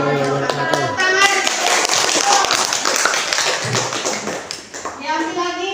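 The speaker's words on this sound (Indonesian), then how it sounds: "Tepuk tangan" A class of students claps together in a school classroom after a group presentation, with a dense, steady patter of many hands filling the room. Children's voices chatter faintly underneath.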